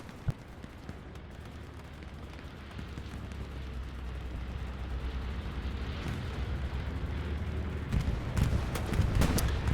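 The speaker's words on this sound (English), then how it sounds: "Bombing run comes in." Bombing run in Hell Let Loose, World War II combat game, with a low rumbling roar building over several seconds and a few sharp booming blasts near the end.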